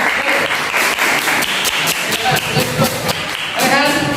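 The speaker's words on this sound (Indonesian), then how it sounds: "Bagus, tepuk tangan teman-teman." Classmates in a classroom clap together, a scattered, brisk round of applause from a small group, with voices talking over the clapping.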